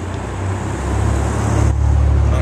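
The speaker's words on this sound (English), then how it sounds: "A lot of traffic today." Road traffic rumbles steadily nearby at an outdoor spot, a continuous low roadway drone that swells slightly louder toward the end, with no talk over it.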